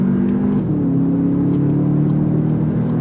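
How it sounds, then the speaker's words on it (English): A 2025 VW Jetta GLI sport sedan engine revs up steadily and loudly on throttle, holding a sustained roar with slight pitch shifts as it accelerates, no voices present. "We're gonna make another U-turn here and go on throttle."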